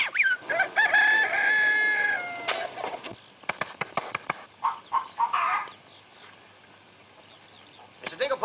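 Chickens in a classic film's farmyard scene, a rooster crowing loudly with harmonic calls, then a run of sharp clucks and short squawks, followed by quiet and a few more clucks at the end.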